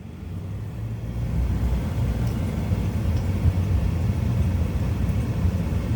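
A Pontiac G6 car engine holds a steady low drone while driving through a corner at around 3,000 rpm, heard from inside the cabin as a constant rumble with no talking.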